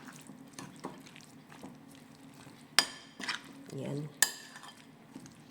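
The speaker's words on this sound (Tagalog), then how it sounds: "Haluin lang natin siya." An eggplant salad dressed with lemon and salt being mixed with utensils in a dish: soft scraping and stirring, with a few bright metallic clinks standing out, while a voice speaks briefly.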